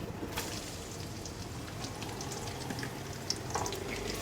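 Sliced onion frying in hot oil with garam masala for beef yakhni pulao gives a steady, soft, rain-like sizzle with a few faint stirring clicks, close but fairly quiet.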